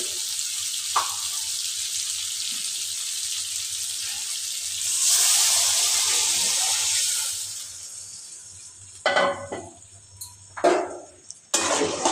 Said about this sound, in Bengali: মাছ আর আলু কিন্তু আমার কষানো হয়ে গিয়েছে, এখন দিয়ে দেবো জল